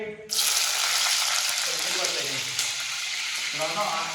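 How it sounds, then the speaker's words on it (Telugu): Green chilies drop into hot oil, setting off a sudden loud burst of sizzling that settles into a steady crackling fry, with faint utensil sounds near the end. "ఆయిల్ వేడెక్కిపోయింది పచ్చిమిర్చి వేసుకుందాం"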